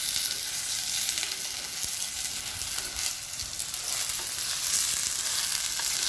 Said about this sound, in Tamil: இது வந்து இந்த ஆயில்லயே பார்த்தீங்கன்னா அந்த சிக்கன் வந்து நல்லா வேகணும்